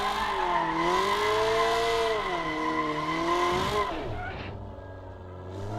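A Nissan 240SX in a racing video game drives off-road, its engine droning steadily with rising and falling revs, then easing to a lower, quieter tone near the end.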